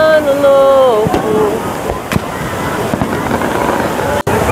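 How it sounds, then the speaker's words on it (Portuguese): New Year's Eve fireworks over Guarujá crackle and thump through a dense, continuous roar, with sharp bursts standing out and crowd noise and voices mixed in. "ainda faltam alguns minutos de fogos, hein?"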